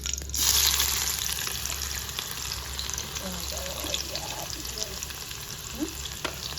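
Onion drops into a hot kadhai with bay leaf and curry leaves already frying, a steady low sizzle and crackle beneath faint kitchen background noise with a few soft clinks.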